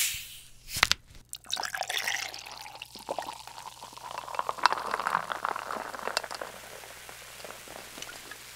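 Cola poured into a glass, a steady fizzing pour with bubbling and crackling carbonation that slowly fades, preceded by a brief sharp can-opening burst.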